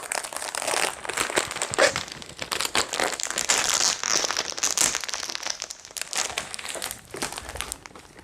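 Adhesive tape crackles and crinkles in a steady run of dense rustling bursts as strips are pulled off the roll and pressed down, close and fairly loud with no talk.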